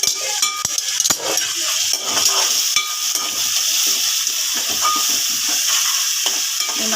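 Chicken frying in a pan for a curry, giving a steady, close sizzle with occasional stirring scrapes and soft utensil clinks throughout, and no talking.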